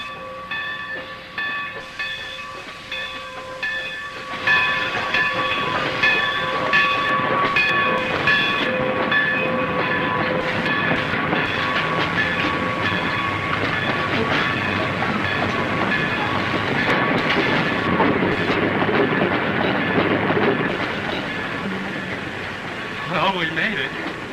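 A train rolls along the rails nearby in a continuous rumble with clattering wheels and high metallic squeals, steady and fairly loud, while people talk over it.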